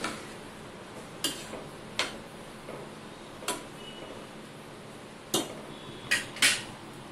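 Coconut rice for sweet narali bhaat being stirred in a metal pot, with a handful of sharp spoon-on-pot clinks and scrapes spaced irregularly over a quiet background.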